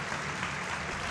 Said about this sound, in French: tout le hall d'Octave Henry qui applaudit Rachel van der Waal